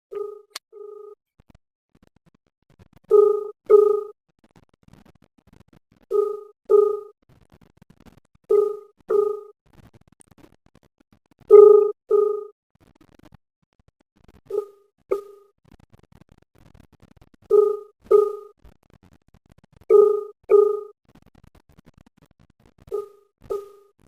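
An unanswered outgoing phone call gives a repeating ringback tone: paired double rings about every two to three seconds for the whole stretch, clear and steady over a quiet line with no voices.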